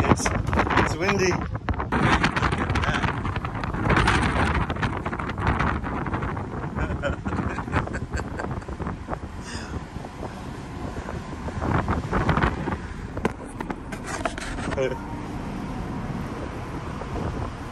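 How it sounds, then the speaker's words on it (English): Strong wind buffets the microphone in gusty rumbles on a tour boat deck in the Saronic Gulf, Greece, with a faint wash of water and engine noise beneath, loud and close throughout. "Holy shit, it's windy."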